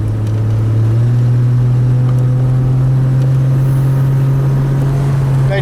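Engine of a 2002 Chevrolet Trailblazer with a cylinder 3 misfire, running steadily then rising in pitch as it revs up, a loud close droning hum that holds for several seconds with no voices.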